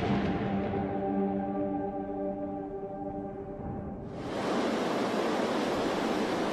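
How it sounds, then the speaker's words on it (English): Torrential monsoon rain pours down in the Western Ghats over a king cobra's nest, a dense, steady roar of heavy rainfall that swells sharply louder partway through and stays loud to the end. "The deluge batters the female king's nest."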